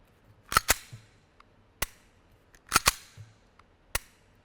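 Crisp metallic clicks from a firearm trigger being pulled and reset come close and isolated, mostly in quick pairs with short pauses between them and faint softer ticks in the gaps.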